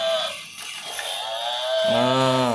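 A buffalo lets out a long, drawn-out moo, a single low bellow that swells near the end of a short toy-animal playtime scene, with a faint background hum and no talking.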